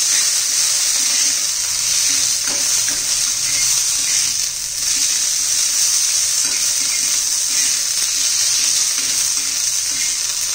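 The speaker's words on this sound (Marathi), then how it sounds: "खोबरं, शेंगदाणे, लसूण, आलं, कढीपत्ता आणि धने आणि कोथिंबीर हे सर्व आपण आता भाजून घेतलेलं आहे" Coconut, peanuts, garlic, ginger, curry leaves, coriander seeds and fresh coriander roast in a pan, giving a steady close crackling sizzle with occasional stirring scrapes and no talking.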